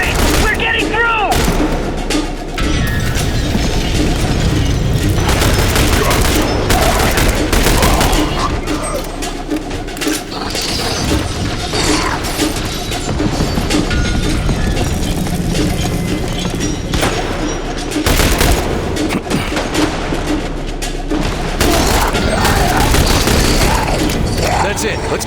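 Sustained gunfire from a combat scene in the video game The Bureau: XCOM Declassified, with dense continuous shots, booms and explosions in a loud chaotic mix, and voices shouting over the battle.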